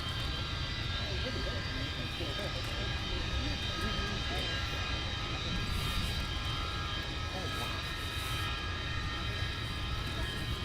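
Avro Vulcan XL426 jet bomber running its engines during a taxi run on a runway, a loud continuous roar and whine holding steady throughout without letting up.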